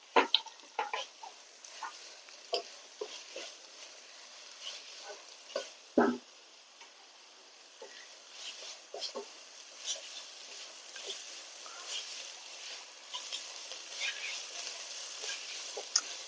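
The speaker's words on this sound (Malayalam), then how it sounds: "നമുക്കതിലേക്ക് പെരിഞ്ജീരകവും 2 പച്ചമുളക് ചതച്ചതും എന്ത് ചെയ്യാം, നമുക്ക് മിക്സ് ചെയ്ത് കൊടുക്കാം." Onions with fennel seeds and crushed green chilies frying in a little oil in a pan, stirred with a spoon; steady close sizzle with scattered scrapes and taps, no talking.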